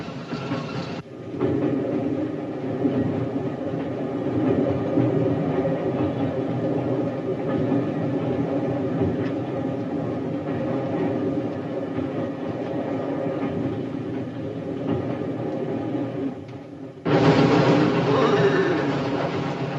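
A steam train rumbles along steadily with a rhythmic rolling clatter for most of the stretch, loud and close, before a brief break and a brighter burst near the end.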